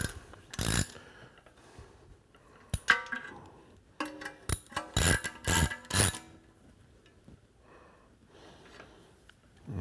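Ratcheting clicks and metallic tool clatter come in quick bursts while bolts are snugged on a 2005 Subaru EJ25 long block, close and busy, with short pauses between runs.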